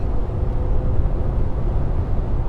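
Ford Crown Victoria Police Interceptor P71 with a V8 engine under hard acceleration: a continuous deep, rumbling engine roar heard from inside the car, steady and loud with no speech.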